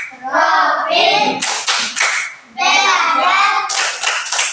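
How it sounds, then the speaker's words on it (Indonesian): Children in an Indonesian classroom clap their hands in a loud, fast rhythmic pattern, two long bursts separated by a brief pause, close and dense with some children's voices mixed in. "Tepuk tangan."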